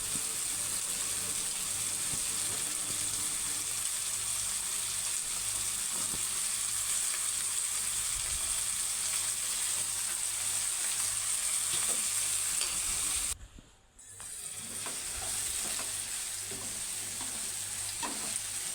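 Brinjal pieces fried in oil with onion and tomato, a continuous dense sizzle with stirring scrapes running throughout at close range, briefly dropping away for a moment before resuming.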